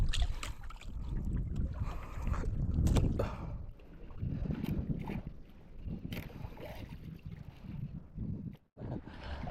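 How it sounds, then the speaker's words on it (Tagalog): Rough water churns and slaps around a small fishing boat amid strong wind buffeting the microphone, a continuous loud rush with surging swells of large waves. "Grabe ng alon, no? Lalaki."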